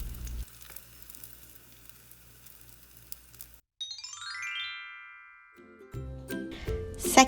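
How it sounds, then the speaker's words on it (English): Pork cutlets frying in oil give a steady crackling sizzle for several seconds, then go quiet, followed by a bright rising chime and later clattering kitchen noise. "flip it and cook 2 more minutes."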